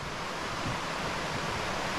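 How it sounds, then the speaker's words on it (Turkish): A mountain river flows near the Zugspitze in Germany, a dense, continuous rushing roar close by, with no voices. "Bakın ırmak şuradan, şuradan akıyor."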